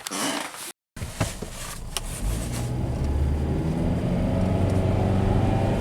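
An all-wheel drive car with a CVT and a newly replaced staked U-joint starts off on a test drive, its engine rising to a steady, droning hum after a brief cut near the start. No voices are heard.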